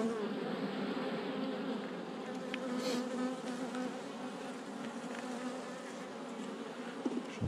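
Honey bees buzz inside a small nucleus hive in a dense, steady hum, close and continuous, with faint clicks and knocks of frames being handled.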